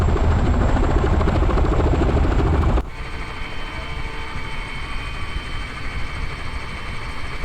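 Aircraft engine running steadily during taxiing in the video game ARMA 3, a loud continuous drone that drops abruptly to a quieter, thinner hum about a third of the way through.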